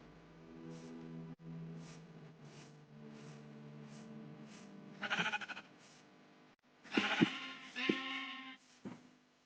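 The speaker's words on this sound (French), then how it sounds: "Des moutons." Minecraft sheep bleat several times in a row, moderately close, with a couple of louder overlapping bleats near the end and no talking.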